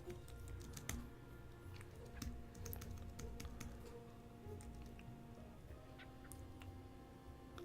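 Quiet computer keyboard typing during live coding, soft scattered keystrokes at an uneven pace over a low background hum, with no talking.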